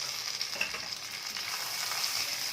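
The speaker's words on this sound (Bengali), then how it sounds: "এইভাবে মশলাটাকে এখন 1 মিনিট মতো ভালো করে তেলের মধ্যে ভাজা করে নেব।" A mutton ghugni spice mix with tomato and green chillies fries in hot oil, a close steady sizzle with light stirring noises, fairly quiet and without speech.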